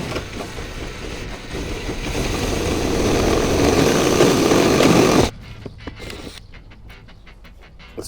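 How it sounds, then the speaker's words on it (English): A power drill bores out holes in a boat helm panel, a steady close whirring grind that swells over several seconds, then cuts off abruptly, leaving quieter rattles and handling clicks. "So I'm going to drill these out larger and hopefully not damage this material"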